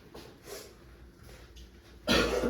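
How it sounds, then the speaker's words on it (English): A single sharp cough near the end, loud and close, after a stretch of quiet room noise. "You choke or do you cough?"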